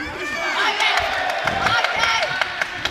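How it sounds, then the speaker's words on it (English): Boxing match crowd at a World Boxing Cup finals in Sheffield, cheering and shouting in a dense, lively roar with overlapping voices and bursts of yells. "Cheering every single success for their boxer."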